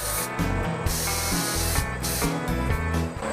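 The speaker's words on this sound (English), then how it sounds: "Opening the valve will give you a vertical spray pattern." A paint spray gun hisses steadily with its fan set to a vertical pattern, a dense broadband rush that pulses slightly in short bursts, close and loud, with no voices.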